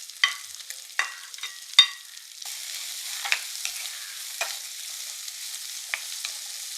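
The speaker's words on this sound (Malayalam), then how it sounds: "ഇനി ചെറിയുള്ളി ഇട്ട് കൊടുക്കാവേ" Small shallots and curry leaves sautéing in oil with cut dried red chillies for a mushroom dish: a few sharp utensil taps and stirring clicks, then a steady close sizzle with occasional scrapes.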